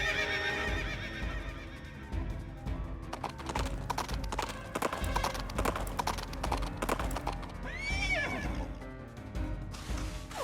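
Horse hooves clip-clopping in the Princess Peach: Showtime! video game, a brisk run of rhythmic hoof clops joined by a bright neigh near the end, loud and continuous.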